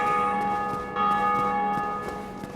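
A bell in the video game Dark Souls rings with a sustained, resonant metallic tone that hangs steadily for a couple of seconds and is struck again partway through, clear and alone.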